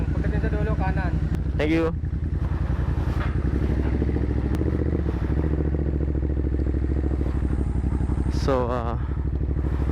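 A 2021 Ducati Monster 937 motorcycle engine runs steadily up close with a deep rumble and a few brief revs, while someone talks over it.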